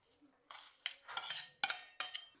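Chopped jaggery mixed by hand-held spoon into a dry fenugreek laddu mixture with flour, dried ginger, cardamom, edible gum and coconut, heard as a few distinct scraping and clinking strokes against a metal vessel, close and separated by short pauses.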